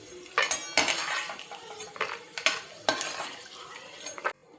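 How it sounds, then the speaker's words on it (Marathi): Poha being stirred while frying in hot oil in a pan, with metal spoon scrapes and clinks over a steady sizzle, several louder stirring strokes, no talk. "आता हे बघा, पोहे छान तळले गेले आहेत"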